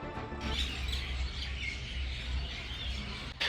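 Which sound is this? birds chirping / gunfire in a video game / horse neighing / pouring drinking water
birds chirping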